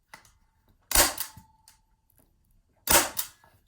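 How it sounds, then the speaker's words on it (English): A staple gun fires twice into a wooden stretcher frame while canvas is stretched over it, each a sharp, loud snap with a short rattle, about two seconds apart, close by in a quiet room. "I want to push the staple gun against the wood as much as possible so that the staple goes in there"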